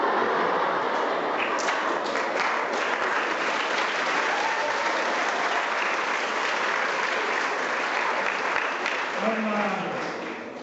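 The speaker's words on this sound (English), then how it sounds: "I'm going to tell my son that he got a clap for his jokes" A school assembly audience applauds after a round of jokes, producing a long, steady roar of many hands clapping that holds for about ten seconds and fades slightly at the end, with a few voices faintly mixed in.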